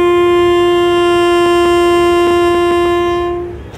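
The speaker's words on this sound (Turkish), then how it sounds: "Kornaya basalım." One long, loud, sustained horn blast sounds close by, holding a steady tone for over three seconds before cutting off.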